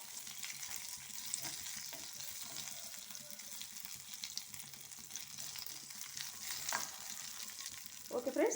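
A ghee tempering for dahi toast sizzles and crackles softly and steadily in the pan, with faint stirring and a brief louder burst at the end.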